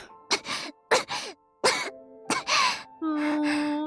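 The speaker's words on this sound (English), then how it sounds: "She began to cough as soon as they left." A woman's cough sound effect from the video game Virche Evermore: a series of five or six short, breathy coughs and throat-clearings, close and distinct, separated by brief pauses, ending in a longer strained cough with a voiced groan.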